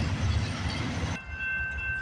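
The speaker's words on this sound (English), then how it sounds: "we got a CN train coming down the line" CN freight train rolling along the line at Delray, a loud steady rumble of wagons that drops abruptly and leaves a quieter hum with a thin tonal whine.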